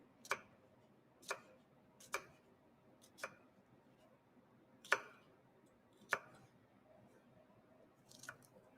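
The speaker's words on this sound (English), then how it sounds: "I will just cut into a very fine julienne" Knife chops vegetables into fine julienne on a cutting board in a kitchen, with about eight sharp, separate taps at an uneven pace over quiet room tone.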